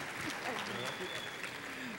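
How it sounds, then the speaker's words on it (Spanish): An audience at a church gathering applauds as a pastor is welcomed to the stage, steady clapping that stays moderately loud for the whole clip. "Recibámosla con un fuerte aplauso."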